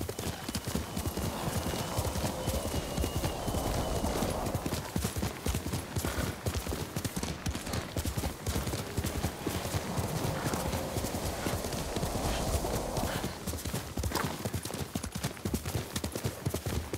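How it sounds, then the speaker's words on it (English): A horse gallops in the samurai action game Ghost of Tsushima, with rapid, steady hoofbeats that are loud and close throughout, and faint whinnies near the start and again later. "You're a good horse, Nobu."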